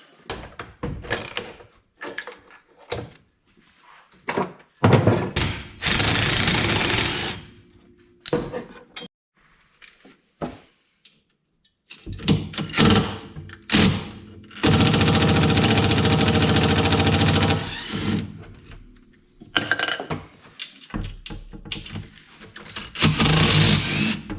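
Wrench with a U-joint extension breaking a bolt free on a KRX side-by-side, heard as rattling clicks and bursts of harsh metallic grinding in several loud sustained stretches.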